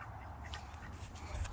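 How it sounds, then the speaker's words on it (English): Several farm ducks quacking nearby in a short burst, soft and a little muffled over steady low outdoor background noise. "These are our 4 duckies."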